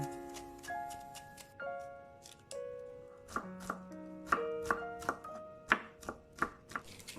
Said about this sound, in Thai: ซอยถั่วฝักยาวให้บางๆ